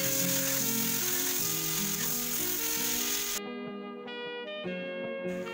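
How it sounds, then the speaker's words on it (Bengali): Raw banana pieces frying in mustard oil give a dense, steady sizzle under background music, then the sizzle cuts off abruptly partway through while the music continues. "এর মধ্যে কলার টুকরোগুলো আমি একটু লালচে করে ভেজে নেব"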